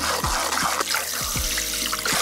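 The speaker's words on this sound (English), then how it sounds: "I'm just gonna wash off my brush." A shaving brush rinsed under a running tap gives a steady close rush of water with small splashes and drips throughout, and no voices.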